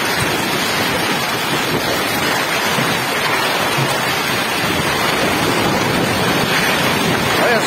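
Heavy rain and hail batter Uberaba, Minas Gerais, Brazil, during a strong storm. A loud, unbroken wash of pelting water and ice hisses throughout, with gusty wind buffeting the microphone.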